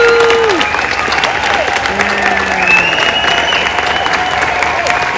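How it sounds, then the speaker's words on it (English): Dense, steady applause from a large audience honoring athletes at a USANA company event, filling the whole stretch at constant volume, with a loud voice over a sound system gliding above the clapping and crowd noise. "Another round of applause for our incredible athletes"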